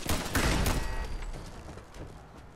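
Bursts of automated turret gunfire in Fallout 4: Far Harbor, loudest at the start and trailing off into fainter shots and echoing rumble.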